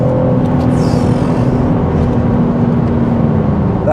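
A BMW G80 M3 Competition xDrive accelerates hard, a loud steady engine roar with rising drone heard from inside the car, continuous with no talking.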